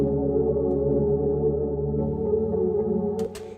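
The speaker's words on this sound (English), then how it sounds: "I'm actually gonna layer my guitars over here" Thick, sustained guitar chords ring together in stacked layers, steady and full, in a soulful amapiano track, before a couple of sharp clicks near the end.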